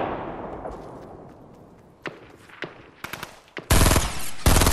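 Gunfire in a shooter video game, a few scattered sharp shots followed by loud rapid automatic bursts close up, with no talk over it.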